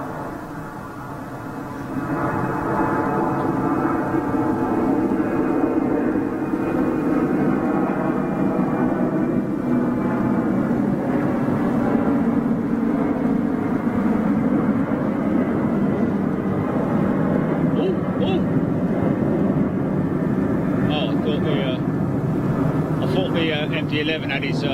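A Boeing 747 departing the Frankfurt cargo hub gives a steady, loud jet roar that holds for the whole stretch, with people talking nearby over the noise.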